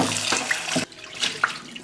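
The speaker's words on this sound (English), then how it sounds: "Rinse the pan off." Water from a kitchen tap rushes steadily into a pan being rinsed after cooking eggplant, a close hissing splash that briefly drops and then resumes with light clatters.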